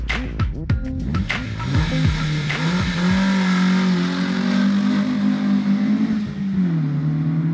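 A car engine revs hard and climbs in pitch, then settles into a loud steady drone close by, with a rising whine of acceleration.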